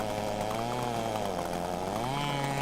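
Farm tractor engine in a farming simulator game, straining and droning steadily as the vehicle moves forward, with rising and falling pitch, loud and continuous with no talk.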